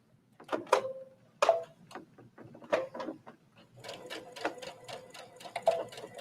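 A Brother sewing machine stitches a seam, with a few short separate bursts of mechanical clicking followed by a steadier run of rapid ticking stitches, close and fairly quiet.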